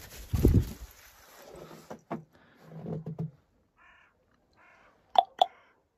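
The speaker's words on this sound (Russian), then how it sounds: "Ворон кричал." A raven gives two short, harsh calls near the end, clear against a quiet background after some earlier knocks and soft rustling.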